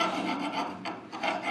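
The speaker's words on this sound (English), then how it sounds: "I'm gonna take a file to it here." A metal hand file rasps back and forth over a part of a pump action shotgun, a coarse, scratchy grinding in a few close strokes with brief pauses, heard alone.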